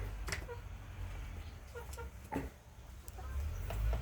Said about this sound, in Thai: ลูกไก่สวยๆนะครับ